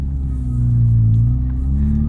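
A naturally aspirated 1990 Mazda RX-7 FC rotary pulls hard at full throttle, its steady low engine drone rising slightly in pitch and holding loud and close for about two seconds.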